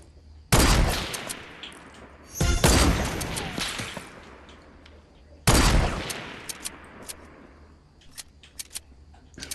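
Sniper rifle shots in Fortnite Battle Royale on PS4: three sharp, loud cracks spaced a few seconds apart, each ringing out with a long echoing tail, followed by lighter clicking and clattering.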